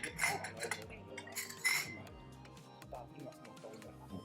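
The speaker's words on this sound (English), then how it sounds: "the dishes are coming out fast and furious" Cutlery and dishes clink and clatter as plates of food are served at a Lunar New Year meal, with bright, close clinks clustered early and sparse lighter taps following amid soft voices.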